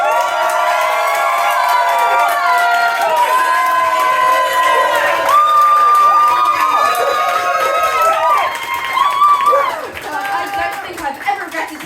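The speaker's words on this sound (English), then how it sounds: "So we seriously need to scream the place down." A comedy club audience at a stand-up night cheers, whoops and screams loudly and continuously, with shouting and some clapping before the noise thins out.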